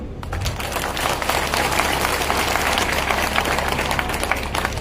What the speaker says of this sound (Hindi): तालियां थोड़ी कम करी।